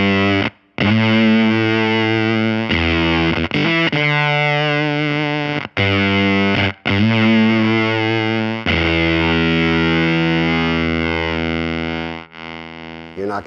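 Keeley Fuzz Bender hybrid germanium-transistor fuzz pedal on electric guitar, thick distorted sustained chords and notes with brief gaps between strums, played loud and alone.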